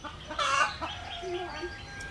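Free-range domestic hens around an outdoor nesting spot cluck in a short burst, one louder call early on followed by softer, scattered clucks close by, with no talking.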